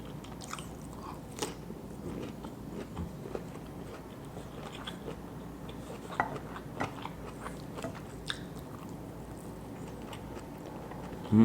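Close, quiet chewing of tortang talong, an eggplant omelette eaten by hand with rice, soft wet mouth sounds and small crunchy bites recurring throughout, with no talking.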